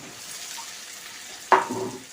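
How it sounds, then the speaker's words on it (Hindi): Jackfruit pieces are tipped into hot spiced oil in a pan. After near silence, a sudden sharp sizzle bursts out and settles into a softer crackle. "अब कटहल को भी साथ में डाल करके भूनेंगे"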